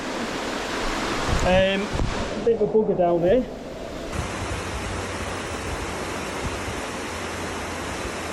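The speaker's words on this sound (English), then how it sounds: "you can hear the flow of water" Water flowing in a brook running through rough ground near a bridge in Manchester, a steady broadband rushing that fills the whole clip, with someone talking briefly over it near the start.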